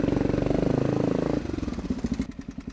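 A motorcycle engine running steadily close by with a fast, even pulse, then shifting to slower, heavier throbbing beats as it idles down or pulls away, with no talk over it.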